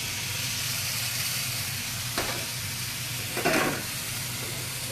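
Softened vegetables sizzle in a hot pan after a pork coconut curry sauce is added, a steady close hiss and crackle with two brief louder bursts of spatter partway through and no talking.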